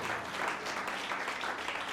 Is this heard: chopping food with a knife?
no